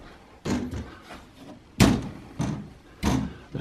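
Small display cabinet doors for a collection of older Dinky Toy aeroplanes being shut, giving several soft thuds and knocks at close range, one louder bump among them.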